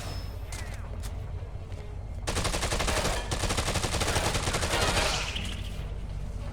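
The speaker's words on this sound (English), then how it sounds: "I'll just shoot him." Rapid automatic gunshots in Dead Rising 2, a quieter stretch of scattered shots giving way to a loud, sustained burst of fast repeated firing lasting several seconds, with ambient game noise underneath and no voices.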